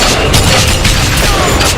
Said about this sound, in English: Over there, flak cannon!